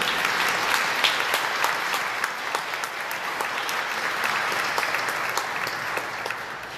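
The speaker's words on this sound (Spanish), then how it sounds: "damos un aplauso a cada uno de ellos" A church congregation at a Second Sunday of Easter Mass applauds the confraternity, a full, steady wash of clapping from many hands with sharper claps standing out, sustained throughout.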